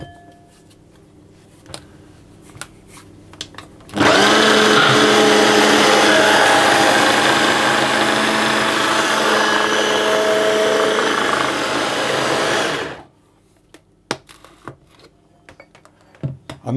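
A food processor whirs loudly and steadily for about nine seconds, mixing egg into biscuit dough, then cuts off abruptly, with quiet kitchen clatter before and after.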